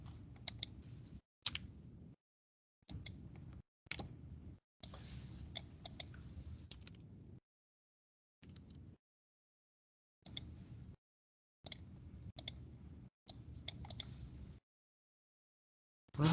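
Keys on a computer keyboard clicked in short separate bursts of rapid typing, spaced by brief silences, close and fairly quiet, with no voices.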